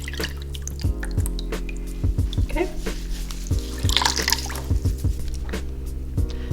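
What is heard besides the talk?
Instant Pot part rinsed under running water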